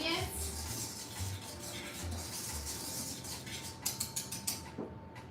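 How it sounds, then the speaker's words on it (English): A whisk stirring dry cookie ingredients in a bowl, soft scraping and light clinking close by, with a few sharper taps toward the end. "with the whisk, makes it easier to combine all those dry ingredients."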